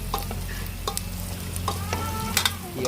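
Shallots and dried red chillies sizzle in a hot pan while a spoon stirs them, giving a steady close frying hiss broken by short scraping and clinking strokes, with no voices.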